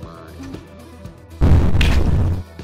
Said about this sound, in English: they'll explode shortly after they die.